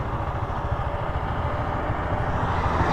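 A Yamaha PG-1 motorcycle engine hums in a steady, even drone during a ride in Bicol. It holds constant and close throughout, with no talking.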